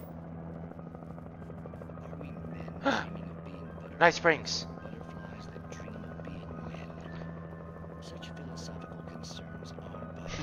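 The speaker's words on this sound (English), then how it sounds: "Helicopter. Nice." A helicopter in the video game Alan Wake keeps up a steady, droning rotor hum throughout, while a player speaks briefly and gasps over it.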